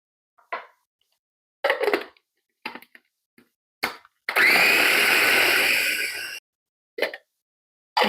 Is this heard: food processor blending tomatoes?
yes